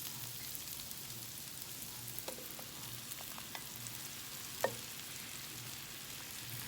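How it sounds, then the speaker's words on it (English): Mushrooms sizzle in a hot pan for shrimp scampi, a close, steady frying hiss with a few soft stirring clicks and one brief sharper knock partway through. "It's time to go ahead and add our mushrooms."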